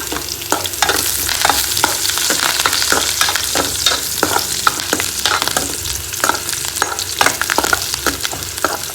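Curry leaves fry in hot oil for a tempering, a loud close sizzle dotted with frequent sharp pops and crackles that carries on steadily without talk.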